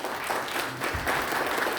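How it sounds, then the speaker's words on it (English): An audience at a book launch claps steadily and warmly, a dense, continuous burst of applause filling the room. "Shall we give another round of applause for him, please?"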